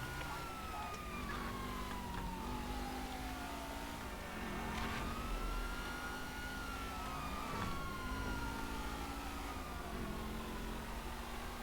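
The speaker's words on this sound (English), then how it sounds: "We have the police chasing me" Police car sirens wail and sweep up and down in a video game chase, layered with a car engine revving steadily underneath, moderately loud and continuous.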